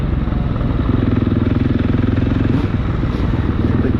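Quad ATVs roar close by through a motocross pit, a steady, loud, buzzing engine drone with rapid throbbing pulses and mechanical clatter, continuous and without talk.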